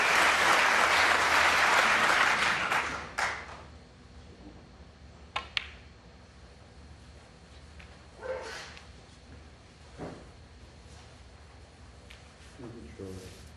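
A snooker crowd applauds a shot by Ronnie O'Sullivan in a world championship final frame against Neil Robertson, a loud burst of clapping that fades after about three seconds, followed by scattered claps and faint commentary.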